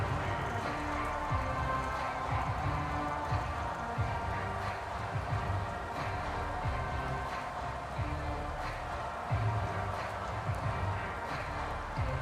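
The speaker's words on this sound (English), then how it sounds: "Forecast calling for more of the same. The rain set to continue as we are underway in the second half." Steady rain falls over a stadium during a Madden NFL 24 football game between the Pittsburgh Steelers and Baltimore Ravens, a continuous wash of patter with low crowd rumble beneath it, loud and unbroken throughout.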